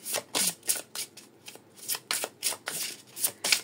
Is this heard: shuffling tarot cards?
yes